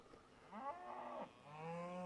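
Cows being worked by riders on horseback give two drawn-out, close moos, the first rising and wavering, the second lower and steadier, with quiet ranch ambience under them.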